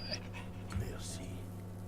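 A dog pants in quick, soft breaths in the World War I video game Valiant Hearts, faint and brief beneath someone talking over a low steady hum.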